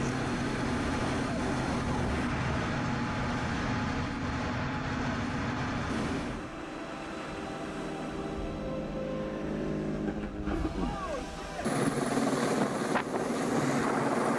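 A helicopter evacuating injured cows from high pastures in the Swiss Alps, its steady rotor and engine roar loud and continuous throughout, dipping partway before swelling back up near the end.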